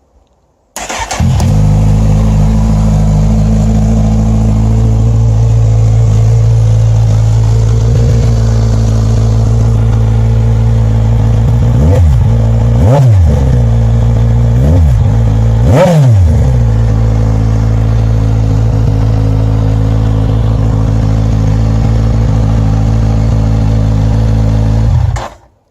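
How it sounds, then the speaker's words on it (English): Kawasaki Z1000SX motorcycle engine running with no exhaust fitted, a loud steady idle close by with several sharp throttle blips and revs in the middle, continuous and without talk. "Let's see what it sounds like"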